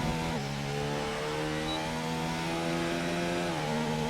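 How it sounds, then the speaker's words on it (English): Toro Rosso F1 car with a Honda engine in a racing video game, a raspy, high-revving engine drone holding steady pitch, briefly shifting near the start and end, loud and continuous with no talk. "with the Honda engine, it's quite raspy when you listen to it as well"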